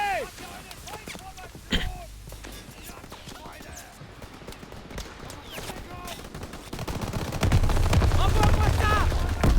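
Repeated gunfire from a Call of Duty WWII match, with rapid bursts and single shots cracking throughout, growing louder and denser toward the end, while voices talk over the fighting.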